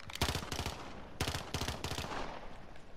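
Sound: burst-fire gun shooting in a video game

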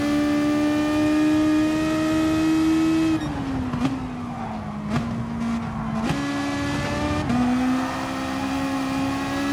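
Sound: race car engine in the video game GT Sport

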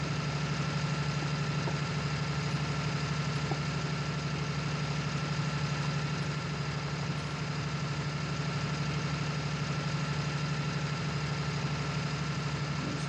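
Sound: Case tractor engine running, from video game Farming Simulator 19

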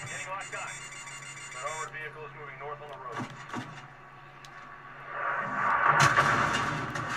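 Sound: warning beeps when pressing flare button, MW2 video game

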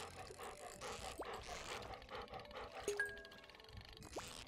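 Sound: dog breathing and whimpering

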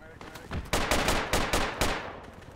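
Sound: suppressive gunfire in video game Project Reality

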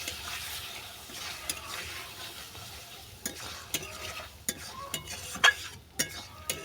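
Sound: stirring mustard paste into prawns and taro in pan

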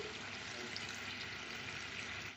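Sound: water being poured into fish curry

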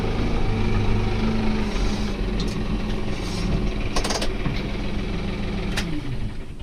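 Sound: New Holland tractors coming and going

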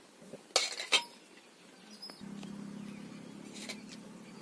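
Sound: ground herb paste added to hot oil

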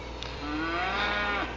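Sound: cattle mooing

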